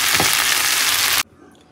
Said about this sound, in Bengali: এখানে করছি ভেন্ডি আলু ভাজা